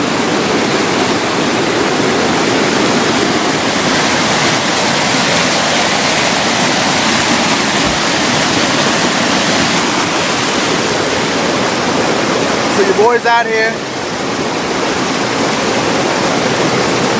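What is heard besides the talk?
waterfall at Glendale Shoals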